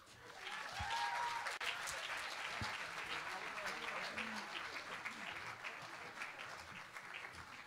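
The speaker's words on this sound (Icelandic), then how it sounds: "Gefum þeim gott klapp!" An audience at a school singing contest claps warmly for the participants, a dense sustained round of applause with a few faint voices mixed in.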